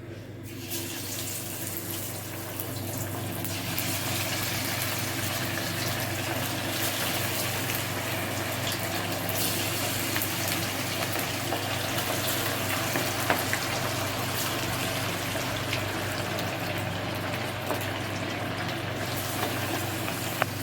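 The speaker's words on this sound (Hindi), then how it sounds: "इसके बाद जी हम फ़िश को गरम गरम तेल में तलेंगे।" Fish fries in hot oil in a kadai, a loud, dense, unbroken sizzle like rushing water that holds steady for about twenty seconds with a few faint clicks and no talking.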